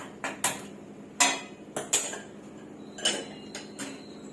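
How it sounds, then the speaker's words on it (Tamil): An iron tawa griddle set down on a stove, heard as a handful of sharp metallic clinks and knocks spaced irregularly over a quiet background, close and fairly soft. "அடுப்பத்தை ஒரு கல் வச்சுட்டு"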